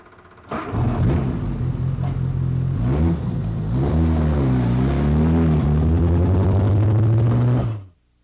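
A Chevrolet Model 490 car engine revs loud and close for about seven seconds, pitch rising and falling with the throttle before cutting off abruptly.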